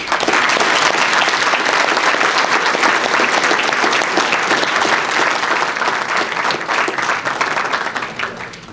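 Sustained, loud applause from a large ceremony audience honoring event sponsors, dense clapping throughout that tapers slightly near the end.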